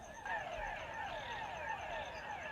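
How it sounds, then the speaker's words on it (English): Frogs croak at night in a steady, repeating chorus of rising calls, with crickets chirping faintly beneath, the sound continuous and alone. "just to revisit our nightly frog serenade, you can hear the crickets out there now too"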